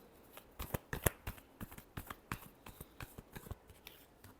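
Tarot cards being shuffled by hand, a quick run of crisp riffling flicks and soft slaps in an irregular rhythm, close and quiet with no voices.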